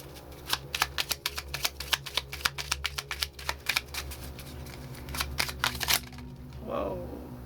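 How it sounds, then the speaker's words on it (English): Oracle cards from a Whispering Woods deck are shuffled and drawn, giving a dense run of crisp riffling clicks close up that slows before a soft sliding rustle. "I'm going to pull one of the Whispering Woods"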